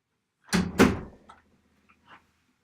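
A door is pushed shut indoors, giving two close, loud thuds in quick succession, then a few faint knocks and rattles as it settles. No one speaks.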